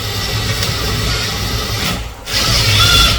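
A power driver sets a 1 5/8 inch screw, giving a steady, loud whirring drone close by. The whir briefly dips near the end, then resumes at full strength.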